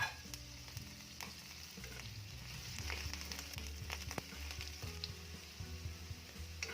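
Potatoes and carrots sizzling in a pan for beef caldereta, a faint steady frying hiss with a few light knocks from stirring.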